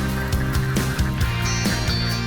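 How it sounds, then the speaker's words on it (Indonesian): Domestic ducks herded across a harvested rice field in Tegal, a steady chorus of quacking and honking calls repeating in quick bursts, close and fairly loud. "Biasanya bebek diangon ke sawah yang telah selesai dipanen."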